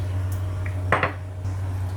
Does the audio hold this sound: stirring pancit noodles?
yes